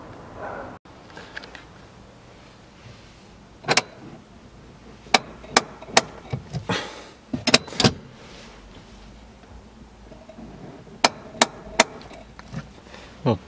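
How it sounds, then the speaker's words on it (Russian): Handbrake lever of a 2016 Chevrolet Niva 4x4 being pulled up, giving a series of sharp, distinct ratchet clicks in small bursts against quiet background. "считаем, сколько у нас сейчас щелчков на ручнике"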